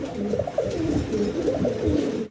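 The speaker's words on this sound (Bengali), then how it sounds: "কবুতরগুলো কতটা অ্যাক্টিভ দর্শক দেখতেই পারতেছেন" Pet pigeons in a loft coo continuously, with several overlapping throaty warbles. The sound is close and moderately loud, with no talking, and it cuts off abruptly at the end.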